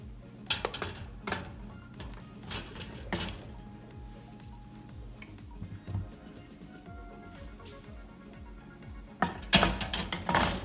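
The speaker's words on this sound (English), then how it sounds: "take your jar lifter to place them carefully inside your pot" Glass canning jars lowered with a jar lifter into a pot for pickled beets, giving scattered light clinks and knocks of glass on metal, with a louder cluster of clatter near the end, fairly quiet overall.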